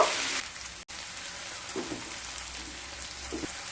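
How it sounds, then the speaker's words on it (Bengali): Onions fry in oil over medium-low heat with a steady, even sizzle that sounds close to light rain, plus a few faint soft stirring touches and a brief louder hiss at the start. "পেঁয়াজগুলো হালকা ভাজা হয়ে আসা পর্যন্ত অপেক্ষা করব।"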